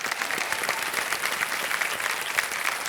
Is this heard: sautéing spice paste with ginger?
no